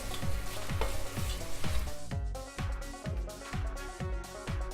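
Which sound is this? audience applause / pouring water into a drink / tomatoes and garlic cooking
tomatoes and garlic cooking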